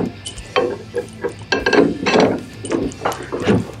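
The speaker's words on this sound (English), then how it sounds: "we attach the other end straight to the steering wheel" A Club security bar is fitted onto a golf cart steering wheel, giving a loud close run of metallic clunks, clicks and rattles in an irregular rhythm, with no talking.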